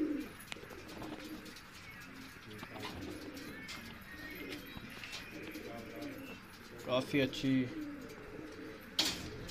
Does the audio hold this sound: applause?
no